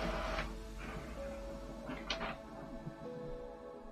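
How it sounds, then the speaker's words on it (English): An inkjet-style home printer runs steadily at a constant low level in a quiet room, with a soft mechanical hum and a few faint clicks and brief bursts of carriage movement. "oh sorry, that's my printer."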